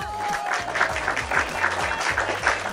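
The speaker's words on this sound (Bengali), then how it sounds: "সবাই তার জন্য কি জোরে হাততালি হবে?" A crowd at a New Year picnic applauding, a steady burst of many hands clapping close by with some rhythmic unison claps, no talk over it.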